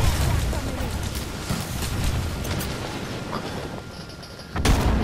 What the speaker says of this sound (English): Airstrike on me.